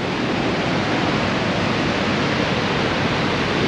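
A steady, powerful roar of rushing water fills the whole clip, dense and unbroken, from a large waterfall in the Grand Canyon of Yellowstone heard from nearby.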